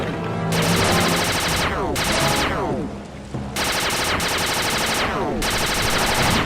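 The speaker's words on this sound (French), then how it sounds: "Riposte avec la tourelle du dirigeable." Rapid automatic gunfire from an airship turret in the video game Sly 2, loud sustained bursts of rattling shots separated by brief pauses, with a rising whine trailing each burst.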